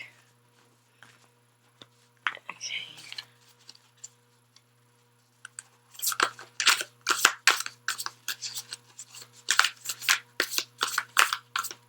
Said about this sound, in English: I just want to cut the deck.